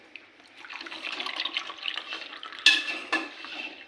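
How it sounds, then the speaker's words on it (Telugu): A glass of water poured into a pot of milk while making tea, a soft continuous splashing trickle building gradually, with a sharper clink and splash near the end. "1 గ్లాస్ నీళ్లు పోస్తాం."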